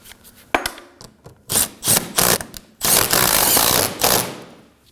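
Ratchet wrench snugging a 10mm bolt on a 2014-2020 Acura MDX front bumper, several close bursts of quick clicking strokes with short pauses between them.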